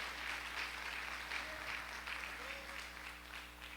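A church congregation claps together in a sustained round of applause, a dense, fairly quiet patter of many hands with a faint background tone.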